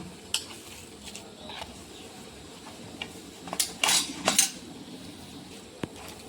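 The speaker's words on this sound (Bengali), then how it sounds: "ভালো করে এটাকে ফেটিয়ে নিতে হবে" Chhena cheese being beaten in a bowl with salt, chilli powder, cornflour and a little flour, heard as quiet scattered clinks and scrapes of a utensil, with a brief cluster of louder knocks midway, no talking.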